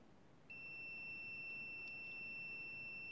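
A cheap digital multimeter's continuity beeper sounds at zero ohms, starting abruptly as one steady, thin electronic tone that holds unbroken for about three seconds over quiet background hiss.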